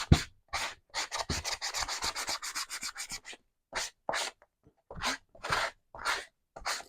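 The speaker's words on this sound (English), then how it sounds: "I am going to sand it." Sandpaper rubbing along the paper edges of an altered composition notebook in junk journal style, rapid close scratchy strokes in a busy run, then slower separate swipes with short pauses between them.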